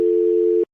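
A steady telephone dial tone holds unbroken for most of a second on a single clear pitch, then cuts off abruptly, heard alone right after a radio call-in line drops.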